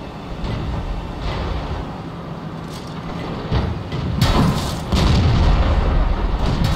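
Tank shell impacts and cannon fire in World of Tanks on a T40 tank destroyer, heavy booming hits and rumbling over a loud, continuous engine drone, growing louder toward the end.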